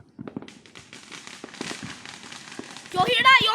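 Fireworks and firecrackers going off at a distance: a rapid run of sharp crackling pops, then a louder burst of crackle near the end, with people talking over it.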